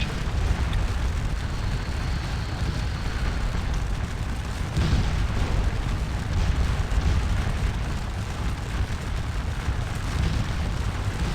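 Artillery batteries firing in Scourge of War Waterloo, Napoleonic cannon booms rolling into a steady, dense low rumble of continuous battle noise that lasts over ten seconds without talk.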